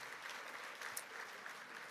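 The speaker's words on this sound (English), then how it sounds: "So give yourselves a round of applause." An audience at a charity celebration event applauds, a steady wash of many hands clapping at moderate distance, fairly quiet and continuous throughout.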